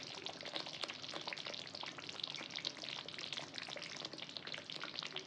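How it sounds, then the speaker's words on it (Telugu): Country-chicken eggs dropped into hot cooking oil for an egg curry, giving a dense, steady sizzle and crackle of frying that holds unbroken throughout, close and fairly loud with no voices. "ఇప్పుడు మనం గుడ్లు వేసుకుందాం"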